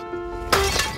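Glass shatters loudly and suddenly after a quiet tonal lead-in, a sharp crash with scattered bright fragments trailing off over the following half second.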